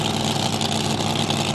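Top Alcohol hydroplane racing boats idle before a drag race at an IHBA event in Chandler, Arizona, giving off a steady, loud engine drone with no talk over it.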